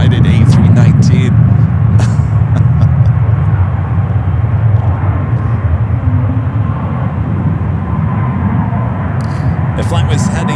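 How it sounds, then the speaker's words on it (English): A United Airbus A319 airliner on a flight to Columbus, Ohio, at San Francisco airport, giving a steady, loud low engine rumble that holds for the whole stretch, with faint wind and background noise over it. "It's probably the longest I've ever held a shot for a United A319"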